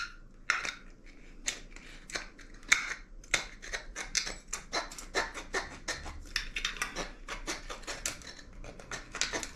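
Scissors snip around a homemade DIY alcohol camping stove made from metal cans, producing a steady series of close, crisp cutting clicks with no talking.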